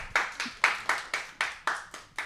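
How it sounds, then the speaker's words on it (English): A few people clap in a slow, steady rhythm, about eight distinct claps spaced evenly, sparse and moderately close rather than a full crowd's roar. "give him a round of applause, ladies"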